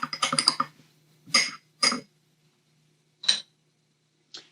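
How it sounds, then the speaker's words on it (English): Spoon stirring espresso in a glass, a quick run of close, bright clinks followed by a few separate taps spaced out with quiet gaps. "The espresso, I'm going to mix it up."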